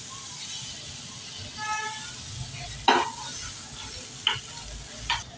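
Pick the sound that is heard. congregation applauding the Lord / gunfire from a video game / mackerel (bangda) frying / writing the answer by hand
mackerel (bangda) frying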